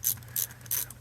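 Ratchet clicking in three quick bursts while bolts are snugged down on the carburetor of a 2006 Mercury 15 HP outboard, close and crisp with a low hum underneath and no talk.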